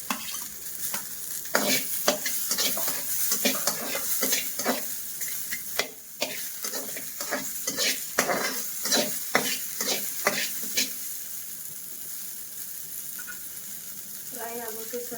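Onion frying in a pan for a mutton methi masala gravy, crackling sizzle broken by repeated sharp scraping stirs of a spoon, fairly close and busy, ending in a softer steady fry.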